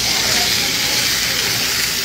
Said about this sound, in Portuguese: Aqui, vamos grelhar o filézinho agora.